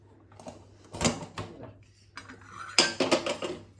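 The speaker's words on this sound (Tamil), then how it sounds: "இப்போ குக்கர் கூலாக எடுத்து திறந்து பார்க்கலாம்" A pressure cooker opened once it has cooled, with loud metallic clanks of the lid and pot in a few quick bursts, then lighter rattling.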